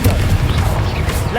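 Blast from the Confringo spell in Hogwarts Legacy: a loud, booming burst with a dense low-end rumble that holds for over a second.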